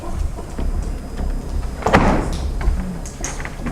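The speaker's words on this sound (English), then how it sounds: "Let me just shut this door so it's pitch black." A theatre room door is pulled shut in a quiet, dim space, a single dull thump with a brief rumble midway through, followed by low room noise.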